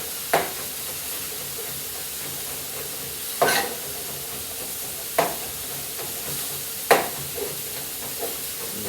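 Ramen being stirred in a hot pan with a steady soft sizzle, broken by four or five distinct scraping strokes of the utensil at irregular intervals, moderately quiet with no talking.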